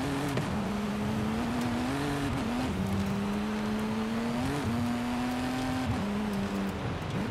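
Steady, droning engine of a heavy car with a V6 engine in Forza Horizon 5, held at a constant pitch with slight dips and rises as it shifts or eases off, running loud and continuously throughout.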